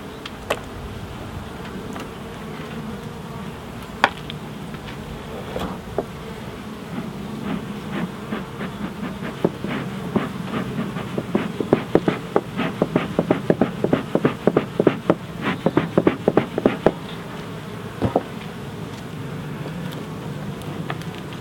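Honeybees buzz in a thick, continuous drone during a spring hive inspection of a smoked colony with chalk brood, while a rapid run of sharp clicks and scrapes from handling the frames rises over the hum midway.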